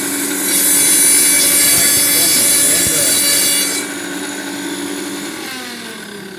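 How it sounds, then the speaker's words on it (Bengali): A Philips kitchen grinder chops onion with a loud, steady motor whir and a high whine. It drops to a quieter, lower hum after about four seconds and keeps running. "এটার ভিতরে এখন গ্রাউন্ডিং হচ্ছে"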